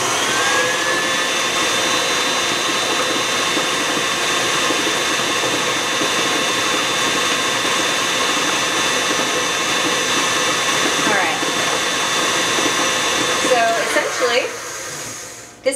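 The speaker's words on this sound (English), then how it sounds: "So we're going to give it another good beating." An electric hand mixer whirs steadily and loudly through yellow cake batter in a bowl, a constant motorized drone that slows and stops near the end.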